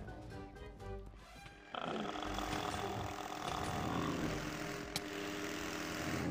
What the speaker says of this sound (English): Oh, there's a drone inside.